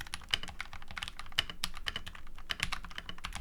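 Rapid typing on a prebuilt 75% mechanical keyboard with hot-swappable switches, a steady stream of sharp, close clacks with a few louder keystrokes standing out.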